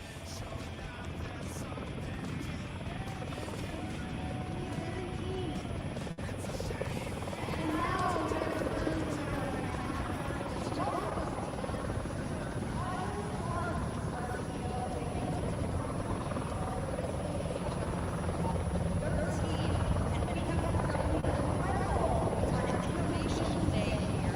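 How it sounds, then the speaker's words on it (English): The Beta Technologies CX300, a 7,000-pound all-electric aircraft, flies overhead at the Oshkosh airshow, a steady whirring drone under the crowd noise and continuous commentary. "coming from the north here is the Beta Technologies CX300 all-electric aircraft"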